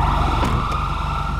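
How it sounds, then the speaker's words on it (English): Emergency vehicle sirens wail steadily at a roadside stop, loud and continuous throughout with a sustained tone and no talk over them. "Can we get the sirens off just so we can hear them?"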